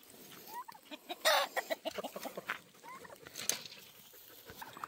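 Farm chickens clucking and squawking close by, a busy scatter of short calls with one louder flurry of wing-flapping or scuffling, no talking.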